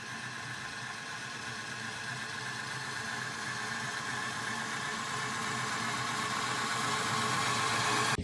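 A homemade electric snowmobile runs for the first time, giving off a steady, broadband mechanical whir that slowly grows louder over several seconds, with no voices.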